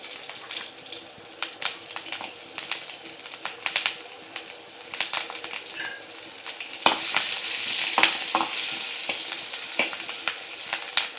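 Green chillies fry and sizzle in a hot pan while being stirred for a lentil chutney, a steady crackling hiss with scraping stir strokes that grows louder and denser toward the end, with no voices.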